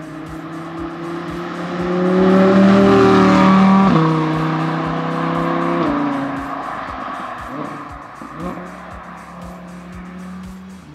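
An Audi R8 V10 Plus in Dynamite Red roars through hard acceleration and gear changes while driving, its engine note rising loudly, dropping at each shift, then settling into a lower, steadier drone.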